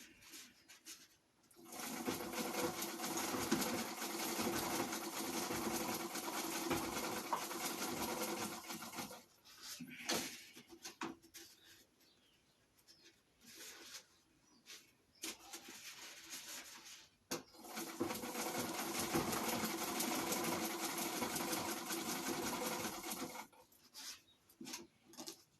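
A treadle sewing machine stitches a reefing sail in two long bursts of steady whirring chatter, with a quiet pause between them and short stops at each end. Nobody speaks.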